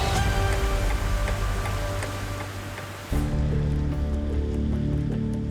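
Heavy rain pours down steadily outdoors, a loud dense hiss that drops slightly before abruptly surging again with a deeper rumbling roar.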